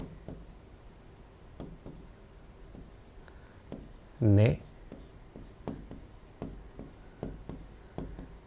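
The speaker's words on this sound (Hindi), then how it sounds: "मैं यहाँ पे नोट डाल के लिख रहा हूँ" A pen writes a note during a Hindi lecture on Buddhism, giving faint, scratchy strokes throughout under a quiet room tone, with one brief voiced sound midway.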